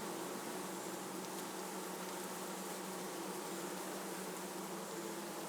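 Honeybees buzz steadily at a Swiss-style beehive during a summer colony check, a dense, even hum with no breaks, heard alone and fairly soft.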